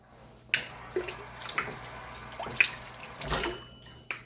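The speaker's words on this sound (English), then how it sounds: "I'm gonna just add just a tad bit of water to this" A small splash of water poured into homemade teriyaki sauce in a kitchen, a faint trickling and a few drips and splashes coming alone, fairly quiet and close.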